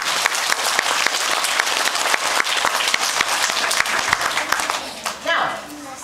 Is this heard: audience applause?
yes